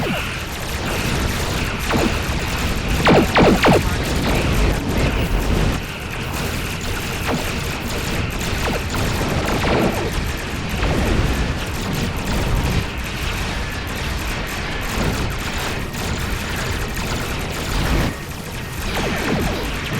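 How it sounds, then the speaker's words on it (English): Explosions and weapons fire boom through a space battle against dreadnoughts in the video game Star Trek Online. The dense, loud bursts crash over one another almost without pause. "Ooh, she took an explosion."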